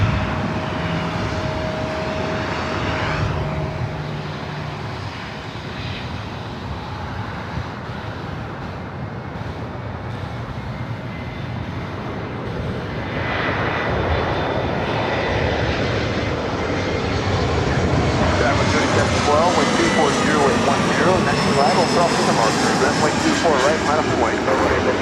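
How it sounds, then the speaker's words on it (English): American Airlines Airbus A321 arriving at Los Angeles International Airport from Dallas/Fort Worth, a loud steady jet roar that swells toward the end as the aircraft draws closer, with a faint tone early on. "American Airlines Flight 1669 coming up from Dallas, Fort Worth, Texas, an A321."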